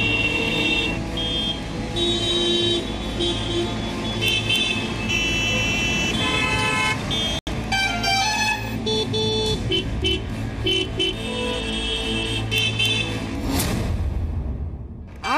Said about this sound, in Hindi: आपके बेवजह बजते हॉर्न सुकून छीन रहे हैं।